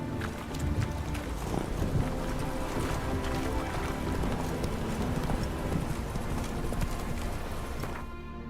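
Roach the horse from The Witcher 3 walking along in Novigrad, a steady patter of hoof clops running throughout over a dense, busy game soundscape, with no talking.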